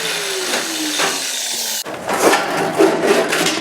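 Wood being cut by hand for the ceiling support box of a freestanding wood stove install, a steady rasping saw stroke that breaks into rougher, choppier cutting partway through, with no talk.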